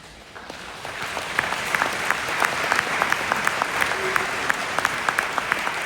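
An audience in an indoor stadium breaks into applause, a steady roar of many hands clapping that builds within the first second and stays dense and even, with sharper individual claps standing out.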